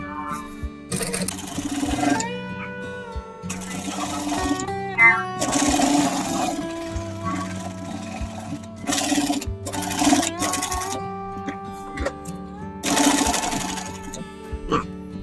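Sewing machine stitching a tailored collar, running in several separate bursts of rapid mechanical whirring and clatter broken by short pauses, close and clear, with a voice talking in the gaps.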